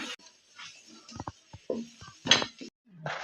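Chicken macaroni gravy being stirred in a pan, with scattered metallic clinks and scrapes of a spoon against the pan, irregular and close, separated by short quiet gaps.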